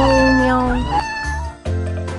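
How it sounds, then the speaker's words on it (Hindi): A cat meows loudly and clearly, a couple of drawn-out tonal cries close to the listener, with no talking. "बिल्ली बोले म्याऊं म्याऊं"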